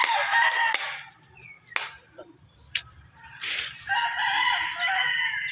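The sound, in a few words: chickens and roosters crowing on farm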